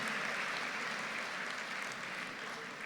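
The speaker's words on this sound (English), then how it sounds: "A huge round of applause for COE and his team." Sustained applause from a large audience at a university convocation, a steady even wash of clapping with no talk.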